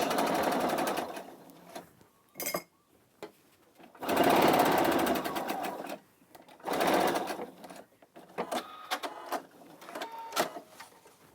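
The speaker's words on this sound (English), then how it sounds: "so we're going to stitch it at 1/2 inch again in from the edge. Make sure you backstitch." A home sewing machine stitches a strap onto face mask fabric in several short whirring bursts, including a backstitch, with quiet pauses and faint handling between runs.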